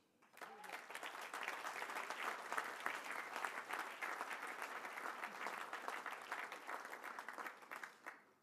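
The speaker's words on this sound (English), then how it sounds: "they absolutely need a huge round of applause" Audience applause at a business awards ceremony swells in quickly, holds as a full, even round of clapping, then fades away at the end, heard from a distance.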